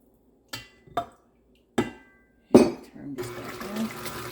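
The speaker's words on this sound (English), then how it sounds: "And get my milk in here." Milk poured into a mixing bowl for vegan lemon cake batter: a few sharp clinks and knocks of kitchenware, then a steady, close pouring splash that runs for over a second.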